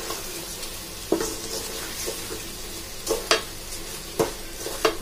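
Spices and food frying in hot oil in a pan, a continuous sizzle broken by several sharp stirring knocks and scrapes of a spatula at irregular intervals.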